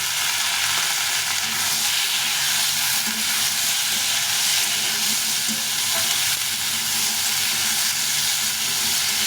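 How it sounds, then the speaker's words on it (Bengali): Tomatoes and potatoes fry together in a pan for a plain potato and tomato curry, giving a steady, dense sizzle and hiss that runs unbroken from start to finish with no talking. "এই দুটো টমেটো দেবো টমেটোটা একসঙ্গে ভেজে দেবো"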